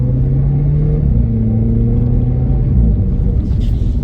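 2010 VW Polo 6 TSI with a DSG gearbox in sport mode, a loud close engine rumble with a steady low drone that steps down in pitch around a gear change, continuous with no voices.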